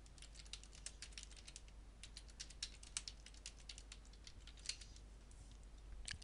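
Someone types a password on a computer keyboard, producing quiet, close key clicks in an irregular run over a faint steady hum.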